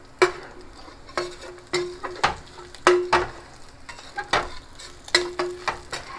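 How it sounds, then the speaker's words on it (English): Garlic, anchovies and red pepper flakes cooking in a pan give a low, steady sizzle, broken by repeated sharp stirring clicks and scrapes at an uneven rhythm, close and with no talking. "we're cooking this until the anchovies have dissolved completely and the garlic is golden"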